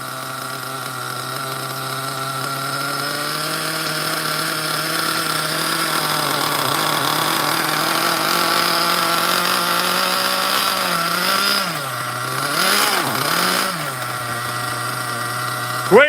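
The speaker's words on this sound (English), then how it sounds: "I think this is the best low idle engine ever." A Hyper 21 nitro engine in an OFNA Ultra MBX RC buggy with a 2-speed transmission idles low and steady, with a close buzzing drone that wavers briefly near the end.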